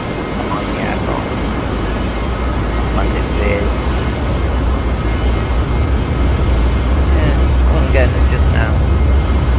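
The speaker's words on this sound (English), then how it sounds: "Engine to full power." A Gloster Meteor jet engine in a flight video game runs at full power: a steady, loud, broad roar that holds throughout while someone talks over it.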